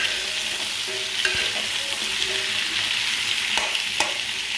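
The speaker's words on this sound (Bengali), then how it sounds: "লাল লাল করে আমি ভেজে নেবো" Fish frying in hot oil in a pan until reddish, a dense continuous sizzle close by, broken by a few sharp utensil taps and scrapes as it is stirred.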